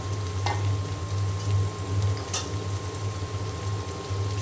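Ground spices sizzle in hot oil over already-fried onions in a pan for a chicken curry, with a steady, dense crackle at close range and a low hum beneath it, and no talking.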